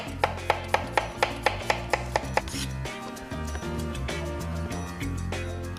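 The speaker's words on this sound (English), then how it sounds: "And radishes, just slice them down at an angle." A knife slicing radishes at an angle on a board, about eight crisp, evenly spaced chops up close, then slower softer cuts, all over steady background music.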